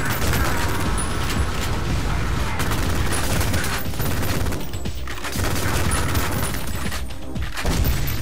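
Submachine gun fire in the retro first-person shooter Ion Maiden, with dense, sustained automatic bursts and booming impacts that pause briefly around the middle, all loud and close in a busy game mix.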